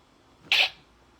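A single short, sharp sneeze bursts out close up, loud and hissy against near silence.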